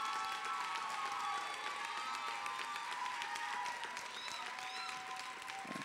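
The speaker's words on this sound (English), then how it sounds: "let's give all of them a nice round of applause there" Audience applause at the Mr. Continental 2011 pageant, a continuous, even patter of many people clapping at moderate distance, with a few faint cheers and whistles toward the end.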